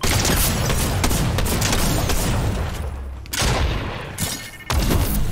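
Shotgun fire in the video game Fortnite: rapid, loud bursts of repeated blasts in a dense fusillade, close and continuous with brief pauses, amid other game noise.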